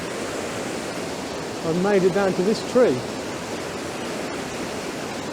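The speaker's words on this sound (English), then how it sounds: "the water's moving very fast here" Fast-moving water rushes steadily at Sharrah Pool on Dartmoor, a loud, even roar that runs through the whole stretch while someone speaks briefly over it in the middle.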